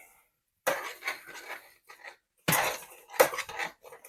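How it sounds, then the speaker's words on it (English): Spoon stirring red pepper flakes and brown sugar in a pan, giving two bursts of clattering, scraping strokes against the metal separated by a pause, close and fairly loud with no talk. "we're going to use a teaspoon of red pepper flakes and a cup of brown sugar. And now we're going to stir all that up"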